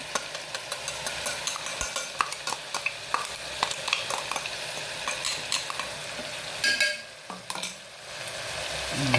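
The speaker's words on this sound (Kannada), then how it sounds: "ಈ ಮಸಾಲವನ್ನು ಅದಕ್ಕೆ ಹಾಕ್ಕೊಂಡು ಸ್ವಲ್ಪ ಹಸಿ ವಾಸನೆ ಹೋಗುವವರೆಗೆ ನಾವು ಹುರಿದು ಕೊಡಬೇಕಿದೆ." Masala roasting in a pan for rice usuli, with steady close stirring scrapes and a soft sizzle running throughout, dipping briefly near the end.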